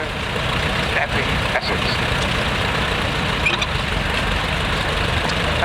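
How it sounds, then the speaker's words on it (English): A vintage four-wheel drive tractor at a steam rally in Essex idles with a steady low, throbbing engine rumble, close and continuous, while someone talks over it. "This great tractor here is owned by Ricky Parrott from Epping,"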